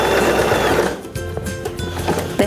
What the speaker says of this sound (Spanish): voy a ir hacia la puntada de recta hacia el costado y voy a asegurar haciendo